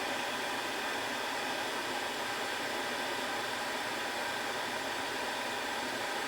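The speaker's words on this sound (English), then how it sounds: "this fucking hairdryer is hot on my legs" A hair dryer blows steadily close by while miniature paint is being dried, a constant airy whoosh with a faint motor hum and no change in pitch or level.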